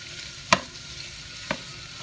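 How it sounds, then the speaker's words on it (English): Onions softening in lamb fat give a faint, steady sizzle, broken by two sharp utensil knocks against the pan about a second apart; no voices. "So we're softening our onions in the lamb fat."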